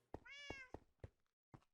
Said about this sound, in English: we've got the calico cat